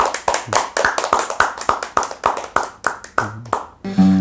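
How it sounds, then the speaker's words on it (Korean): Church congregation clapping in thanks after a Sunday sermon, a loud, close, evenly paced run of sharp claps that stops abruptly, followed by a brief sustained tone. "우리 감사의 박수를 좀 드리십시다"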